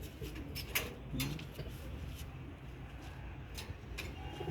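Pigeons on a rooftop coo softly at a distance over a quiet outdoor background, with a few light ticks and taps scattered through.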